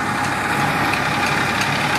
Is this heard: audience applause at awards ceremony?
no